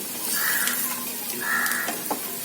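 A fasting-recipe snack fries in a pan with a steady close sizzle and soft hiss, broken by a few brief crackles and light scraping as it is turned.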